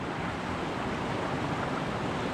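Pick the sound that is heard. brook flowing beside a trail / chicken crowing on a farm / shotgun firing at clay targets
brook flowing beside a trail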